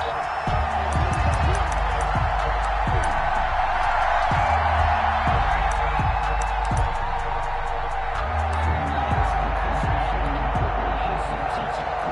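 Simulated stadium crowd in a PS4 American football game between the Indianapolis Colts and the Tennessee Titans, a continuous roar of cheering and whoops running the whole time beneath a commentator's steady talk.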